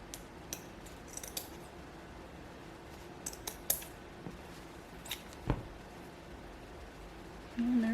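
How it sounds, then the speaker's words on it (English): Scissors snip the excess pieces off the back of a rustic fall wreath bow, a handful of quiet, separate clicks spread across a soft room background with no talking. "And then I'll just trim off the excess pieces in the back."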